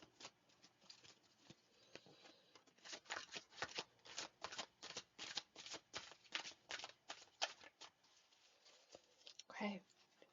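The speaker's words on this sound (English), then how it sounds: "Okay, so I'm going to start shuffling." Tarot cards being shuffled by hand, a quiet close run of soft riffling flicks and paper patters in quick irregular bursts, ending with a brief faint sound.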